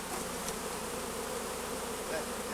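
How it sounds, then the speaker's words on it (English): A swarm of honey bees in a beekeeping yard, a dense continuous buzzing drone close around the listener, steady and unbroken with no talk. "Oh my goodness, they're swarming like crazy."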